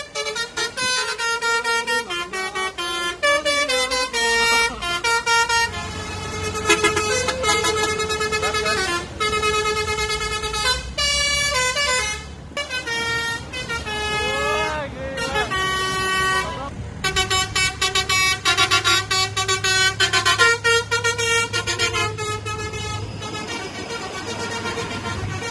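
A Basuri V3 bus horn plays a long run of loud, musical, multi-tone honks in rapid melodic bursts with short gaps, continuing for the whole stretch with no talk.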